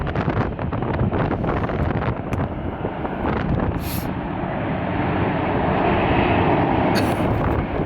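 Aeromexico airliner at Atlanta airport, a broad steady engine roar with heavy wind buffeting across the whole stretch, fairly loud and continuous without any talk.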